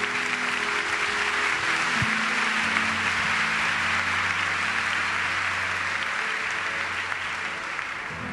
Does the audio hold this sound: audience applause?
yes